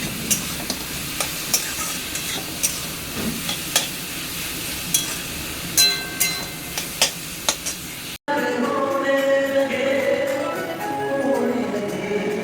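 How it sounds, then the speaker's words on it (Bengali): Cabbage and potato fry with cumin in a pan, a soft sizzle under repeated scraping and stirring clicks of a spatula, then a brief cut to a louder, denser sizzling. "এই যে এখানে বাঁধাকপি আর আলুটা আগে একটু ভেজে নিচ্ছি"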